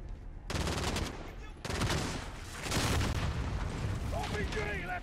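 Bursts of rapid automatic gunfire from the video game Call of Duty: Modern Warfare (2019), loud and dense with short gaps, ending with a few sharp ricochet-like chirps.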